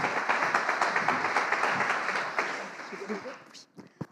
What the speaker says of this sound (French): faites-lui un tonnerre d'applaudissements